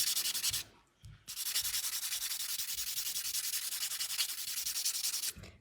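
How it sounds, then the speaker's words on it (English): A nail file buffs a fingernail during a marble manicure, giving fast, rhythmic back-and-forth rasping strokes. The scrubbing is close and loud, pauses briefly near the start and then runs steadily, with no voices. "Buffing, buffing, buffing, buffing."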